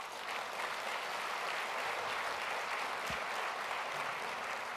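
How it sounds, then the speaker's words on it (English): Sustained applause from an audience thanking sponsors at a youth writing challenge event, a steady dense wash of many hands clapping at a moderate distance with no break. "Let's give all of our sponsors another big round of applause."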